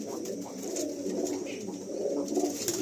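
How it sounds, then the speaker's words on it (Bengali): Carrier pigeons coo softly in a loft, low gurgling calls repeating against a faint background hum. "এই একটা দেখুন মালবাহী পায়রা"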